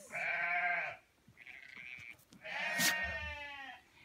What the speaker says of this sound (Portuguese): ali tem as ovelhas